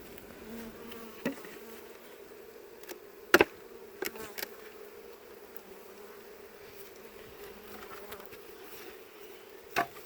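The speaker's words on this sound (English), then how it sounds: "Get these bees off their cover there." Honey bees buzz steadily from a nucleus colony as frames are lifted and moved, with a few sharp knocks and clicks of wood and equipment over the constant drone.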